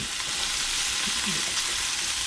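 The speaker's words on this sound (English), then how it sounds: "with the bacon and onion cooking, it smells amazing" Bacon and onion frying in a pan for an omelette, a steady close sizzle with faint stirring scrapes running throughout, no talking.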